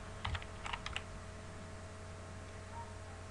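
Fingers type on a computer keyboard, a few quick clusters of close clicking keystrokes early on, then only a faint steady room hum.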